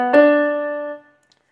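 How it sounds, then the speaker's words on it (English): A short melodic line played in retrograde inversion on a sustained, harmonically rich pitched instrument, heard as a clear attack with a long ringing tone that decays over about a second, played alone without talk. "a retrograde inversion, as the name sounds, it's both backwards and upside down"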